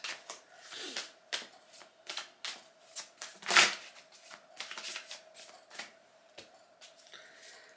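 Tarot cards being shuffled by hand in a steady series of crisp riffling bursts, with one louder flurry partway through, close and otherwise quiet with no talking.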